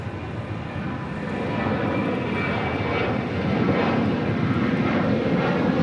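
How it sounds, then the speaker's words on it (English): An Asiana Airbus A380 approaching LAX gives off a steady, loud jet engine roar that swells slightly as it nears, with no voices heard. "Asiana, the A380 Super,"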